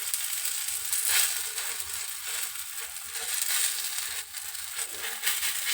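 Oil sizzling on a hot griddle pan while aloo paratha cooks, a steady close hiss with faint crackles running throughout.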